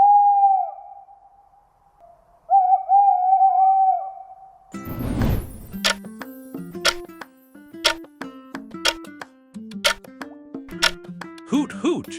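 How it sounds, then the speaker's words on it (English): An owl hoots in steady, low, drawn-out calls, followed by a run of evenly spaced, bright plopping tones in a children's guess-the-animal quiz, with no talk over the sounds. "Hoot, hoot. That's an owl."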